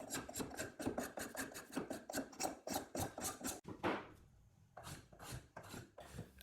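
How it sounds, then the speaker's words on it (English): Spokeshave shaving along a wooden table post in a fast run of rhythmic rasping strokes, close and fairly loud, then a short pause and a few more strokes. "I could only use the spoke shave on the post"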